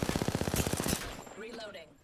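Rapid automatic gunfire in a video game firefight, a fast burst of roughly a dozen sharp shots for about a second, then a fading tail with faint game sounds and a voice.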